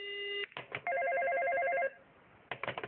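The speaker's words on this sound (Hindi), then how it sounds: "लगता है दूसरी कॉल आ रही है" A cartoon telephone rings with an incoming call, a warbling electronic two-tone trill that repeats for about a second between short bursts of other sound. It is loud and close, with no talk over it.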